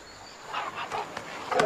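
A dog gives a few short, mid-loud vocal bursts, barks or whines, close by in a quiet room, with no talk over it.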